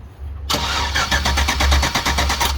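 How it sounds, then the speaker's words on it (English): An LS-swapped S197 Ford Mustang engine cranks over with a fast, rhythmic chugging from the starter, loud and close, continuing steadily without catching. "could provide enough amps to crank the engine over fine"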